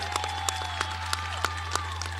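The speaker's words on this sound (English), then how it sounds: "Let's give them a huge round of applause" Audience applause for school staff at a career center senior celebration, steady clapping carried over a constant low hum, with a few louder individual claps standing out, fairly quiet and distant.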